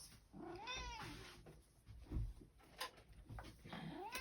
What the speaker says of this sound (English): All she does is meow at me.